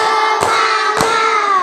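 Two distinct hand claps ring out against a steady sustained tonal background that hums throughout, in a classroom group clapping exercise.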